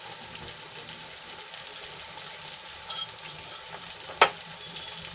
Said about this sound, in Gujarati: સરસ રીતે આપણે ચટણીને સાંતળી લઈશું